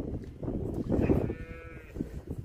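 Dairy cows on a Brazilian farm give a low, drawn-out moo in the middle of the clip, fairly soft and set against a murmur of barn background noise.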